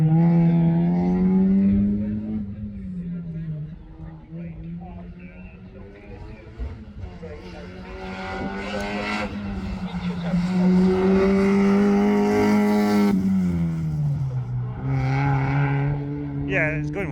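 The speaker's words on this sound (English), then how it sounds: "Mike King took his MX-5 and new Yokohamas to a class record around both layouts" Mazda MX-5 on new Yokohama tyres at a sprint event, engine note rising and falling through gear changes with a nearby voice talking over much of it.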